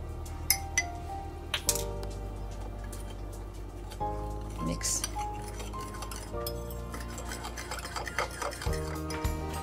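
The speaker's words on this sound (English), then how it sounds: "And then we're going to mix." A utensil clinks and scrapes in a wok while shrimp and broccoli are mixed with oyster sauce, giving repeated light metallic taps and stirring sounds over a steady background tone.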